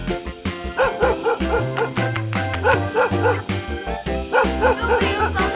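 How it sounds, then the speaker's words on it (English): A dog barks and yips in quick repeated bursts, close and prominent, layered over cheerful children's music. "Dog."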